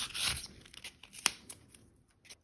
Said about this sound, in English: I have got a little plastic knife here. And that just works just fine to actually cut this down.